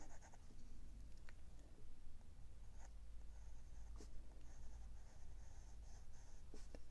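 Pencil drawing and shading on paper: soft, continuous scratchy strokes with a few brief rustles, quiet and close, with no talking.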